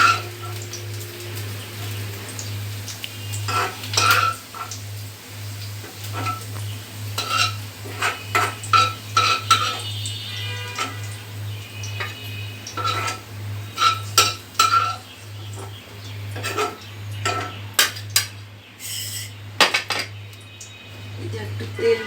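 A spatula stirs and scrapes through ingredients lightly frying in a pan for a chickpea bhuna, giving irregular metallic clinks and taps over a faint sizzle and a steady low hum, with no talking.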